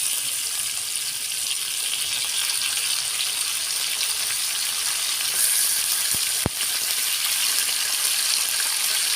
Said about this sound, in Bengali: আলু সুন্দর করে ভাজা হয়ে গেছে, আর একটু ভেজে নিব।